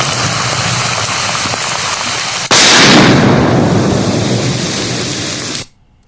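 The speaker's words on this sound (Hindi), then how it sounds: "तस्वीरें दिखा रहे हैं किस तरीके से विस्फोट करा करके इस केन आईईडी बम को नष्ट किया गया है" Controlled detonation of a Naxal can IED bomb by security forces in a Jharkhand jungle: steady outdoor wind noise, then one sharp loud blast with a rolling roar that fades before cutting off.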